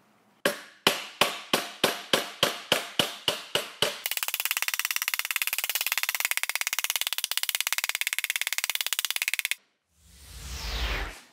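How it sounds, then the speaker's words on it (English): A ball peen hammer taps a caulking tool to work a sheet metal edge down around a steel bar. About a dozen evenly spaced, sharp metallic strikes are followed by a long, rapid run of fast tapping, then a brief rumbling sweep. "I'll be using a caulking tool that I'll tap with a ball peen hammer"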